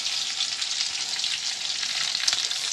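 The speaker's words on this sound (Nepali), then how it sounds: "सरू छेमालाई चाहिँ यो फ्राई हुँदैको देखाउँ न त" Chicken pieces for crispy fried chicken sizzling in hot oil, a steady bright crackle and hiss close up with small pops, no voices.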